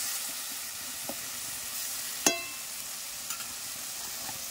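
Masala spices being stirred and fried in a pan, a soft continuous sizzle with occasional scraping clinks of a spoon against the pan, fairly quiet and close.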